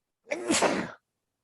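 One short, breathy sneeze sounds close by during a podcast conversation, a single rushing burst under a second long and otherwise isolated.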